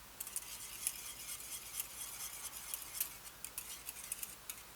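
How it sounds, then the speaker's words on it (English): Milk in a pot near boiling is stirred steadily, giving faint repeated light scraping and ticking of a utensil against the pot over a soft hiss, with no talking. "You keep stirring because you don't want it to form a skin on top"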